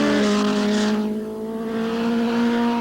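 Superbike motorcycles race at Laguna Seca, engines screaming loud and close with a steady high-pitched whine that swells and shifts as the bikes flick through the corners, with no voices over them.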